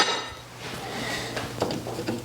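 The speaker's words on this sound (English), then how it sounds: "now, we take our frying pan" A clean frying pan is handled in a home kitchen, with a few light metallic clinks and knocks, soft and close, with no talk.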